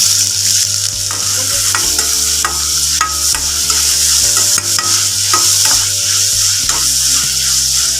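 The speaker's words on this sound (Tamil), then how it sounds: "வெங்காயம் நல்லா வதங்கணும்." Finely chopped large onions with curry leaves frying in oil in a pan for bottle gourd gravy, a steady loud sizzle with intermittent scraping and stirring clicks, no talking.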